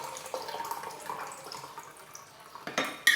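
Cold water poured into a measuring cup, a close, light splashing trickle with small drips and a brief clink of the cup near the end.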